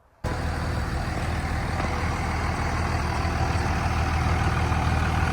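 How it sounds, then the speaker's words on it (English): A loud truck engine idles steadily on a roadside by waterfront lots in Alabama, a constant low rumble that starts abruptly and holds without change. "You can hear my loud truck in the background running"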